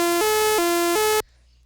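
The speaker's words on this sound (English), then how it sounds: "this mathematical formula produces a stream of numbers, and at 22 kilohertz it sounds like this." A harsh, buzzy synthesized bytebeat tone, generated from a mathematical formula played at 22 kHz, steps through three pitch changes at a steady rhythm, then cuts off abruptly into near silence.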